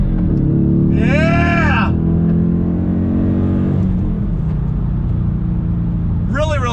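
Dodge Challenger R/T with a 6-speed manual accelerating hard in second gear, a loud close engine roar climbing steadily in pitch, as someone shouts excitedly over it.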